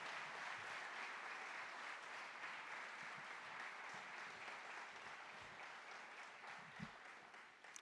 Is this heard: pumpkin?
no